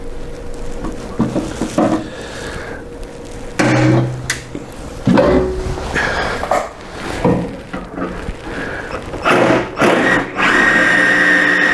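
Loud power drill whirs in repeated bursts of a few seconds each, close up, drilling for pop rivets on a track sled build, with clanks and metallic knocks of tools between runs.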